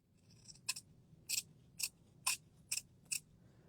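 Scissors cutting a piece in half while a gingerbread house is being made, six crisp snips in a fairly even rhythm, close and clear over a quiet background, with no talking.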